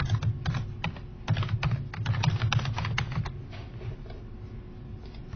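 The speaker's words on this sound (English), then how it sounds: "I click Create Thread, and I type the title of my thread" Fast typing on a computer keyboard, with rapid, irregular clicking keystrokes in short bursts over a low background hum.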